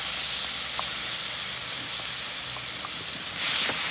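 Masala paste frying in hot oil with mustard seeds, dried red chilli and curry leaves, a loud steady sizzle and hiss throughout with a brief swell near the end.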